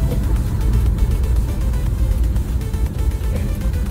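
Engine of a 2019 Daihatsu Gran Max D pulling through first and second gear, a steady low drone heard from inside the cabin with a rising, continuous hum and no clear gaps between shifts.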